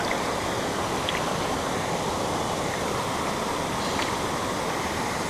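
A waterfall roars in a steady, dense rush of white water beside a bass-fishing spot. It sounds loud and close, continuous for the whole stretch with no voices.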